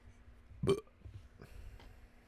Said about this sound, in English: Hold on, I gotta let out a burp real quick.